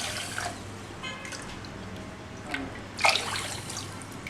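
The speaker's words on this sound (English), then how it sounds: "So I am going to add in the same measurement cup 4 cups of water." Water runs and trickles into a measuring cup for sugar syrup in a home kitchen, a soft steady flow with a few louder splashy bursts, no talking.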